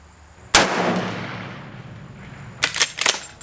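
A single loud Marlin 336 Classic lever-action .30-30 rifle shot firing 170-grain soft-point rounds outdoors, a sharp crack with a long decaying rumble, followed by a few metallic clacks of the lever cycling.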